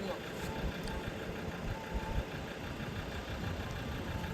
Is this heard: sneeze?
no